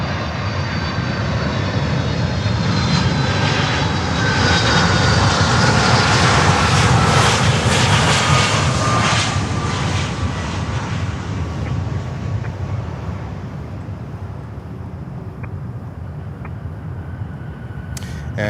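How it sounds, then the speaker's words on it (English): Cargo jet engines at Miami airport roar loudly and steadily, swelling to a peak midway as an aircraft passes, then fading into a distant rumble, with faint talk underneath. "that plane, it's still going strong. A great aircraft."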